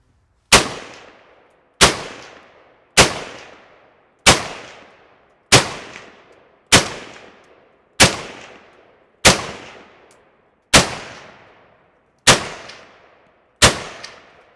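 A Soviet SKS semi-automatic rifle fires ten separate loud shots at a slow, fairly even pace of one every second or so, each sharp crack trailing off in a short echo, with no talking.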